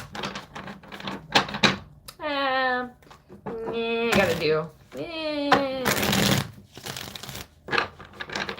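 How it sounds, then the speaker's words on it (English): A deck of tarot cards being shuffled by hand, crisp riffling bursts near the start and end, with a person talking in between. "One more shuffle here for you."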